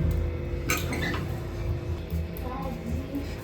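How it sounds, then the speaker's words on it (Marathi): Hot sesame chikki mixture is scraped with a spoon from the pan onto a greased plate, giving close metallic clinks and scrapes over a steady low background hum. "आता आपण हे काढून घेऊया ताटामध्ये आणि मग आपल्याला स्प्रेड करायचे"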